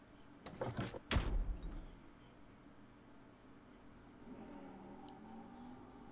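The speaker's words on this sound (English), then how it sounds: "After 2 more decompressions, the last door finally opened" A door opens in Zero Escape: Virtue's Last Reward with a sharp mechanical thud and sliding clank near the start, then fades into a quiet low ambient hum with a faint tone.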